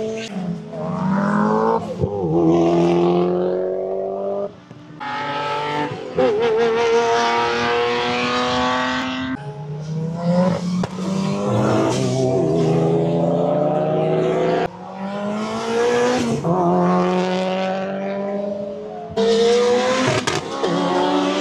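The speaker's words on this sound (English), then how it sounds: "all the quickest cars are absolutely blatting around" Fast cars at a car club track event scream past one after another, loud and close. Engines rise through the gears with rhythmic upshifts and sweep by in repeated waves.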